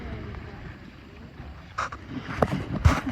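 A sailboat moves across water in darkness, with low wind rush and soft water noise throughout, joined by a few brief knocks and creaks late in the clip.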